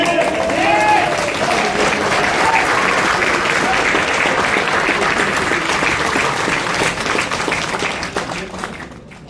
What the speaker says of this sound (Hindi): हेलो, जोरदार तालियां बजाइए।